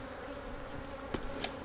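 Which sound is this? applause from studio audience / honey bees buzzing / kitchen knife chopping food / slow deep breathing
honey bees buzzing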